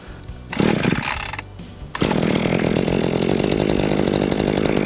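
A brand-new Cobra MT250C petrol multi tool is pull-started: a couple of loud rasping cord pulls and sputters, then the small two-stroke engine fires and runs at a continuous loud buzzing idle.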